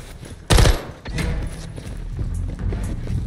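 Gunfire in the Call of Duty Modern Warfare 3 video game: a loud, close burst opens the clip, then rapid, dense fire continues under the game's ambient noise.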